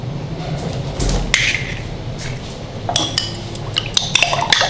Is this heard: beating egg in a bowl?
yes